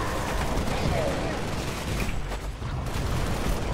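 Gunfire in the video game Halo: Spartan Assault, including shotgun blasts, runs as a dense, continuous barrage of booming shots with a steady loudness.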